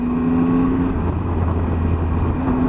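A 2018 Triumph Tiger 800 XRT motorcycle cruises in third gear at about 30 mph and 3000 RPM, giving a steady, smooth engine hum with wind rush, close and continuous.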